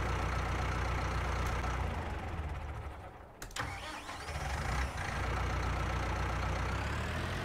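The Arbos 5000 tractor in Farming Simulator 19 has its engine start with a brief dip and catch, then settles into a steady, loud mid-pitched diesel idle that runs unbroken to the end, with no voices.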